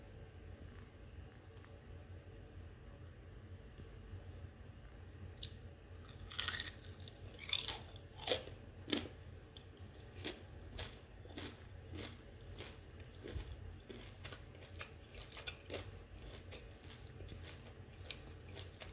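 Crunchy homemade chicken nuggets with minced meat inside, bitten and chewed close up, giving a run of crisp crunches and chewing sounds that begin faintly and repeat steadily over a low room hum.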